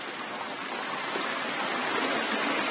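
Overflowing water from a breached tank rushing through a coffee plantation after heavy rain, a steady broadband roar of fast-flowing water, close and unbroken.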